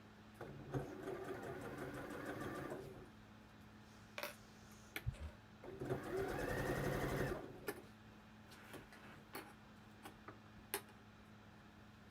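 A domestic sewing machine stitching the neckline of a wrap dress, running in two close, steady whirring bursts of a few seconds each, with small clicks and taps of handling in between.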